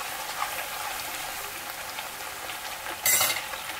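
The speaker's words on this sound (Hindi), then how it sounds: "और इसको एक बार फिर से चलाते हुए" Lauki kofta gravy simmers and gets stirred in a pan, a soft steady sizzle and bubbling hiss with a brief brighter scrape of the spoon near the end.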